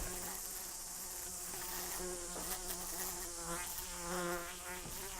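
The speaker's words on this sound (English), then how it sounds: "Quite like the sound of a fly like that." Several flies buzz continuously nearby, their droning pitch wavering and swelling as they circle close.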